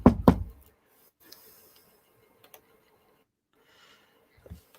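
Two quick, hollow knocks on wood sound close and clear at the start, followed by near silence with a few faint ticks and taps.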